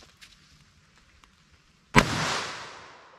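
A single sharp .22 Magnum handgun shot fired outdoors, a loud crack followed by a decaying echo trail lasting over a second, after quiet background.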